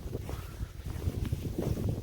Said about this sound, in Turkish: Rüzgar var, esiyor soğuk.